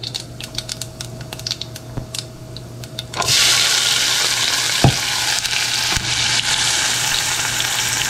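Onion hitting hot oil with mustard, cumin and fenugreek seeds for a salmon fish curry: scattered seed pops and clicks first, then a sudden loud, sustained crackling sizzle right up close.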